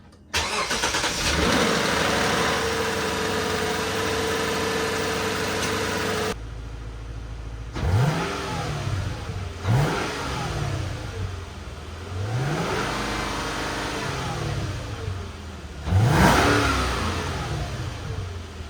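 A 2009 Toyota Crown Majesta S200 with a 4.6 litre V8 and 8-speed automatic cranks and fires up, settles to a smooth idle, then gives several sharp revs that rise and fall back, heard up close.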